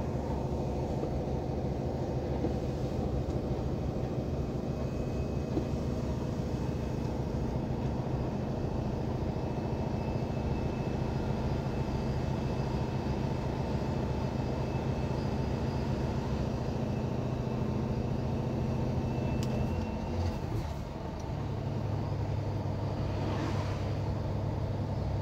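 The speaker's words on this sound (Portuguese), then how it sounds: "Até ligar o freio motor, que eu não vou nem ficar pisando no freio" A truck's engine brake holds a steady, low droning rumble while rolling down the road in Brazil, a continuous engine and road noise that shifts pitch briefly near the end, with no talking.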